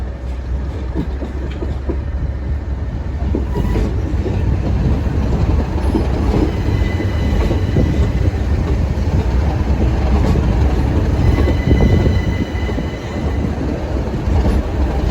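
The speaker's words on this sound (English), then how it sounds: "This train finishes its journey here" A train rumbles loudly and steadily into Dover Priory station, with a deep engine drone, rattling wheels and faint metallic squeals as it rolls in close by.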